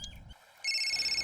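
An electronic phone ringtone sounds for an incoming call, a steady bright tone starting partway through and continuing loud to the end after a short quiet gap.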